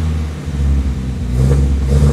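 A 1975 MGB with a freshly rebuilt carburetor idles steadily close by with a low, rumbling drone and a slight rise in revs near the end. No one speaks over it.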